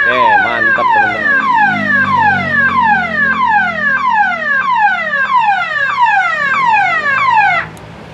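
A homemade emergency alarm for a landslide-prone area wails with a rapid, repeating falling siren tone, loud and steady for several seconds before cutting off abruptly near the end.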